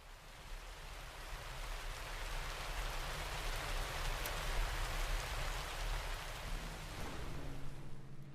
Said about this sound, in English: We'll go torrential rain, I think.